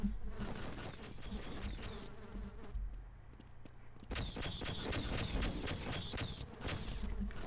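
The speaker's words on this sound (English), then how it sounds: "Come on, bee gun! You haven't failed me yet!" The bee gun in the video game Half-Life buzzes in a dense, insect-like drone, firing continuously for several seconds, breaking briefly, then resuming loudly.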